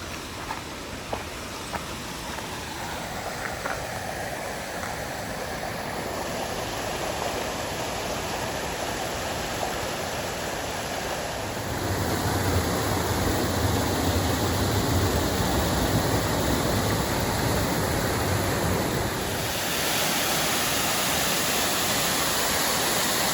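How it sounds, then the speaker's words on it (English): Katahdin Stream Falls on the Appalachian Trail roars as a steady, broadband rush of falling water, loud and continuous throughout, with the low churn swelling noticeably in the middle stretch. "Katahdin stream falls. Now that is beautiful. That's a nice waterfall."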